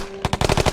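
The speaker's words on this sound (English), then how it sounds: "A gunshot suddenly resounded through the plaza." Rapid burst of gunfire in the Piofiore visual novel game: about seven sharp, loud shots in quick rhythmic succession following a brief quiet tone, close and alone.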